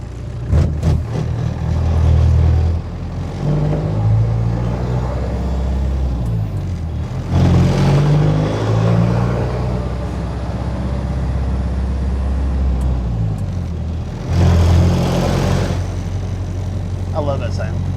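A diesel Jeep Wrangler YJ with a turbo and a straight 2-inch exhaust, no muffler or resonator, rumbles along a country road, its low drone swelling in repeated revs between gear changes while people talk over it.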